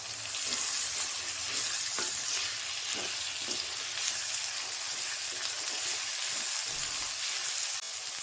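Finely chopped tomato sautéing in a pan for semiya upma, giving a steady, dense sizzle and frying crackle throughout with faint stirring knocks, close up and with no voices.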